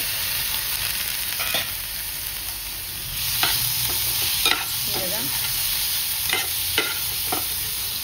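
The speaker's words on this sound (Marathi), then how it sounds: "आता ह्याच्यामध्ये आपल्याला ही सगळी कोलमी परतून घ्यायची." Prawns sautéed in spiced oil for a curry sizzle steadily in the pan, with repeated scraping stirs and light clinks of a spoon against the vessel, close and continuous.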